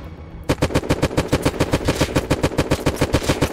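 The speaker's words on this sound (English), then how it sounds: "I headshot him twice." Gunfire in the survival game Unturned during PvP: a steady, rapid run of sharp, evenly spaced shots after a brief quiet start, clear and fairly close.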